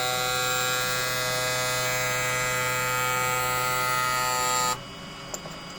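A Sparx ES100 skate sharpener runs with a steady, loud electric buzz rich in harmonic whine for several seconds, then cuts off abruptly, leaving quiet room sound and a small click.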